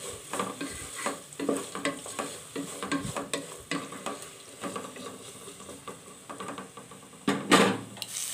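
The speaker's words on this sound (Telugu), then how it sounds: "వేసుకున్న దాన్ని కొంచెం ఫ్రై అవ్వనివ్వాలి ఆనియన్స్ని" Sliced onions frying in a pan while being cooked for a bottle gourd stir-fry, giving a soft continuous sizzle broken by repeated scraping stirs and clatters of the utensil against the pan, close and moderately loud, with no talking.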